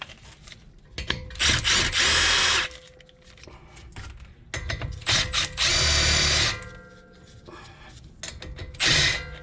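A power tool, likely an impact driver, whirs and rattles in several loud bursts while loosening bolts on the front brake caliper of a 2016 Honda Odyssey, with quieter clicks and handling noises between bursts.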